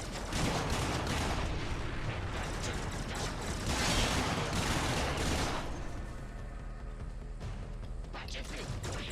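Rapid gunfire from the Soma rifle in Warframe on PS4, a dense continuous stream of shots mixed with game effects, loud and steady throughout with brief shifts in intensity.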